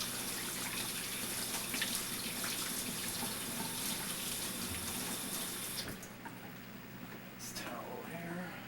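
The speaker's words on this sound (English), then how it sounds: "Rinse my hands." A kitchen tap runs steadily while hands are rinsed under it, a constant close hiss of water that shifts briefly near the end as the flow or hands move.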